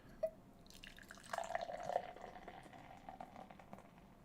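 Beer poured slowly into a glass over several minutes, faint close trickling and fizzing with scattered drips and small splashes, no talking.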